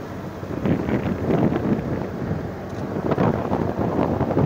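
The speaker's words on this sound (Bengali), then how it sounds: "দেখুন কিয়ারে পড়ে যাচ্ছে এই নৌকা, কত স্পিডে ছুটছে।" A launch speeding across the Brahmaputra river, a continuous loud rumble of engine and rushing water mixed with buffeting wind against the microphone.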